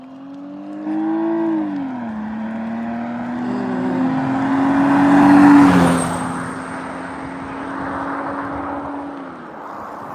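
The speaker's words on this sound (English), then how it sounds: "this car belonged to teenagers" A car drives past on a road beside a walking route by the Kemi river near Rovaniemi, its engine hum rising as it nears, peaking in a close pass, then holding steady as it pulls away.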